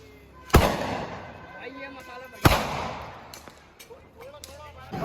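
Two loud, sharp Diwali firecracker blasts about two seconds apart, each a sudden close bang that decays quickly, with faint voices and background noise between them.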